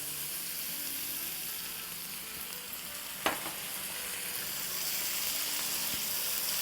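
Onions, ginger and garlic frying in oil for masoor daal, a steady close sizzle running continuously with one brief sharp clink partway through.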